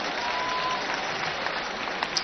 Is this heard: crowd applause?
yes